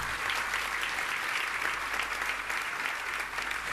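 A crowd at a Jain Panchkalyanak Mahotsav gathering in Jabalpur claps steadily, producing a continuous, fairly distant wash of applause with no talking.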